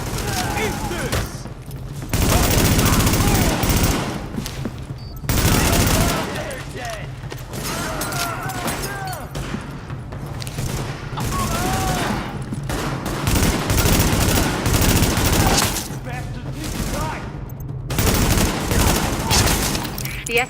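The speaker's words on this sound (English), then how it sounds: "The escort party's taking heavy fire from the roof." Heavy automatic gunfire rattles almost nonstop through a co-op firefight in Tom Clancy's The Division, with bursts, rapid shots and mechanical clatter broken by brief lulls, while players talk over it.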